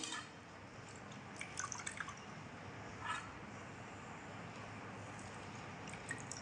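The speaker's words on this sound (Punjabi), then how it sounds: "ਸਾਰਾ ਪਾਣੀ ਇਹਦਾ ਆਪਾਂ ਨਿਚੋੜ ਕੇ" Water drips faintly as soaked puffed rice is squeezed out by hand in a home kitchen, with a few soft, scattered drops against a steady low hiss.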